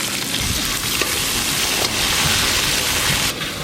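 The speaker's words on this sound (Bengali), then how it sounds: "আলুগুলো একটু সময় নিয়ে ভালো করে ভেজে নেব।" Potatoes sizzle steadily in hot oil in a pan, a dense, loud crackling hiss that runs unbroken throughout.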